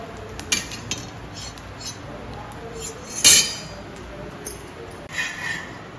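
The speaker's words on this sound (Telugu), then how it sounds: "ఇప్పుడు మళ్ళీ మనం ఇలా తిప్పేసుకోవాలి." Aapalu, a soft Telugu breakfast pancake, being flipped in a pan: a few sharp metal utensil clinks and scrapes, one louder knock near the middle, against a quiet kitchen background.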